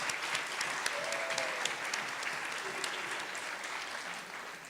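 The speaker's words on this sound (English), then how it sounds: "big round of applause" Audience applause at an evening tribute with a dessert reception, sustained dense clapping from a crowd throughout, steady and fairly loud.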